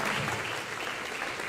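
A church congregation breaking into applause, a full, steady burst of many hands clapping at once, close and fairly loud across the short stretch.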